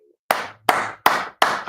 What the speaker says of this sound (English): Explosive clapping